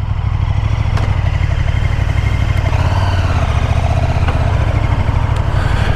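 A KTM Super Duke 1290R Evo motorcycle engine runs steadily and loud from start to finish, its deep rumble holding even with slight swells in revs and no talking over it.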